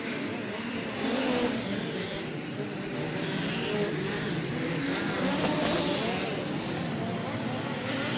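Midget race cars from the Lucas Oil POWRi National and West Midget League roar off at the start of a race at Port City Raceway. The engines rev loud and rise in a continuous wash of sound, with crowd and announcer noise mixed in.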